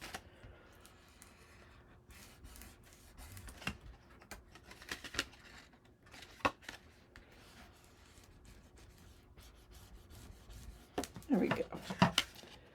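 Paper pages of a handmade Valentine's Day mini album are burnished with irregular bursts of scraping and rubbing. The strokes are quiet and scattered at first, then grow louder and denser toward the end.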